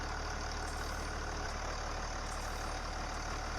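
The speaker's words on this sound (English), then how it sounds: "We own a tractor capable of 200 horsepower." A 200-horsepower tractor engine idles in Farming Simulator 19, a steady low mechanical drone with a faint hum running evenly throughout, no voices.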